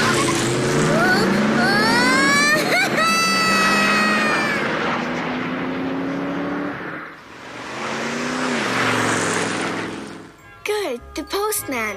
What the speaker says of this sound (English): Cool car. 32 cylinders.